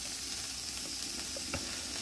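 Steak and lobster sauté in wine, giving a steady close sizzle and hiss throughout with a faint clink near the end and no talking.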